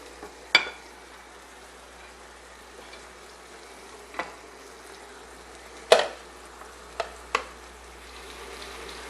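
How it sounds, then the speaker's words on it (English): Tomatoes caramelize in a frying pan with a soft, low continuous sizzle, broken by a few sharp clatters and scrapes of stirring at irregular intervals. "our tomatoes have been cooking, getting nice and caramelized for about 3-4 minutes"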